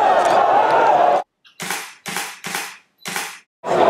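A Canon EOS 550D DSLR shutter firing in continuous burst mode, a rapid series of sharp mechanical clacks in quick succession, close and distinct after a stretch of background noise.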